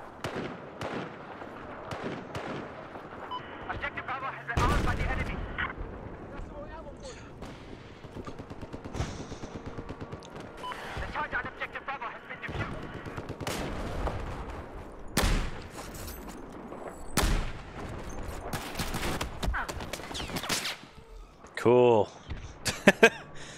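Rifle fire in the shooter game Battlefield 4, with sharp bursts and single shots scattered through a busy battle mix, some loud and close, others fainter, with a player talking throughout.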